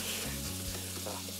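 Octopus sizzling and frying in a hot pan for a Mediterranean-style dish, a steady close crackle with a few soft stirring bumps and no talk.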